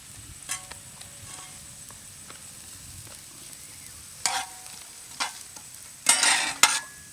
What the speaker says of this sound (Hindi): बर्तमान पियाज अदा रसुण कीमा भल भाव में भाजी गला।